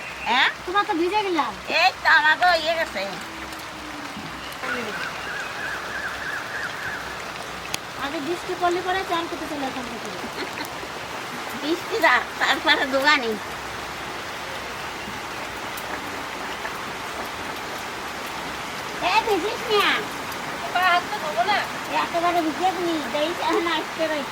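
Steady rain pours during outdoor cooking of paired hilsa fish, a continuous hiss that lasts throughout, with people talking intermittently over it.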